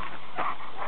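A dog whimpers in two short, high-pitched whines close to the microphone, with no talking over them.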